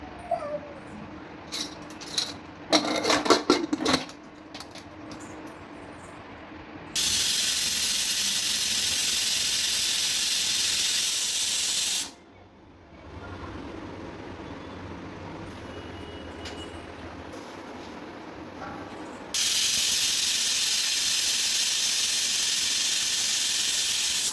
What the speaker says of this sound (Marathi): आता कुकरचं टोपण लावून मी 3 शिट्ट्या काढून घेणार आहे।